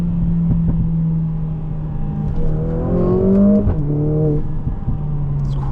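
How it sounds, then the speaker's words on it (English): A Mercedes-AMG GLA45 four-cylinder engine revving hard, a loud nearby idle drone climbing into a rising, snarling rev before dropping back to idle. "Absolutely mental how Mercedes has engineered a 4-cylinder to be this angry."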